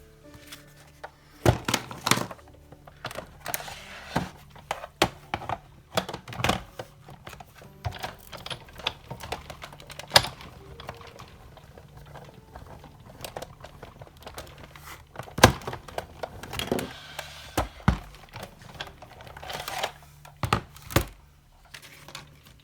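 A die cutting machine runs during papercraft work on a slimline Baby Yoda spinner card, giving irregular close clunks and short mechanical thumps scattered through an otherwise quiet stretch, with no voices.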